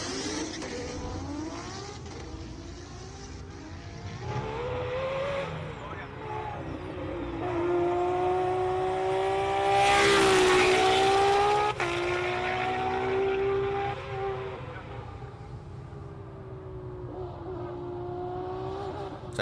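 A race car at the Simola Hillclimb launches and accelerates uphill, its engine rising in pitch through gears with a loud peak mid-clip, while commentators talk over it throughout.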